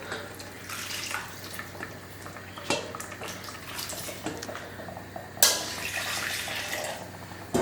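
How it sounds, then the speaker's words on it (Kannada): Water sloshes and splashes inside a blender jar with intermittent knocks and clatters as the jar is swirled and rinsed with lentil cooking water close by. "ಸೊ ಈ ಜಾರನ್ನೆಲ್ಲ ಇದೇ ನೀರಿದೆಯಲ್ಲ, ಬೇಳೆ ಕಟ್ತು ನೀರು, ಓಕೆ, ಅದ್ರಲ್ಲಿ ತೊಳ್ಕೊತೀನಿ."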